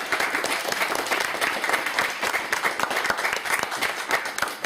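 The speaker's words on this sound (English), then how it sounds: "A warm round of applause for our panelists." A university lecture audience applauds the panelists, steady, dense clapping from many hands lasting the whole stretch without pause.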